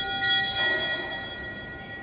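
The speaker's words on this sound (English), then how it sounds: "Ooh, a bell." A church bell rings inside a church in Rome, a sustained metallic tone with lingering overtones that fades slowly, heard alone without talk.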